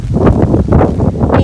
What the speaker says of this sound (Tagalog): Actually medyo malakas yung hangin.